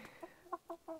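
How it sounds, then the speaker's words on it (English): Chickens cluck softly in a few short, quick bursts, quiet and nearby, with no other sound around them. "the chickens just arrived as I was just about to speak."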